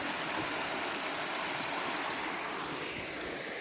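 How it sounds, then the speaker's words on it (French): Small streams of running water trickle along a path in a protected valley near Brunoy, a soft, continuous wash of rushing water with faint bird chirps above it. "Il y a plein de petits ruisseaux"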